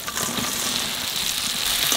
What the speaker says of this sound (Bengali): আলু ইঁচড়টা একটু কষাই নিলাম,